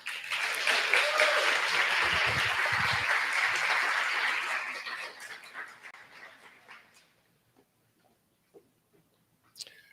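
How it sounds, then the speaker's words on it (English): An audience applauds panelists at a live education festival event, loud sustained clapping that fades out over several seconds, leaving near silence with a faint voice and a small knock at the end. "One last round of applause for our panelists."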